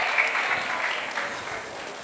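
An audience at a Mahesh Navmi celebration claps loudly in a dense, continuous wash of applause that slowly eases off toward the end.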